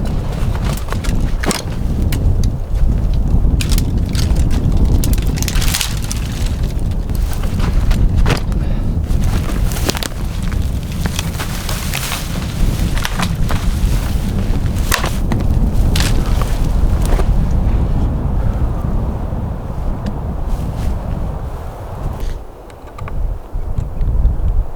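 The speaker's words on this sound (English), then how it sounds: "Clear out some of this brush so I can actually shoot." Dry brush and grass are pulled and cleared by hand while setting up for a coyote hunt. Close crackling rustles and snaps repeat steadily over gusty wind noise.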